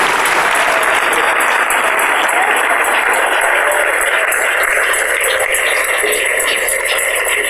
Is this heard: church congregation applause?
yes